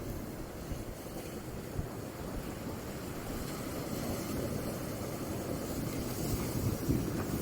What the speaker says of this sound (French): jusqu'à l'endroit où vous entendez les vagues là maintenant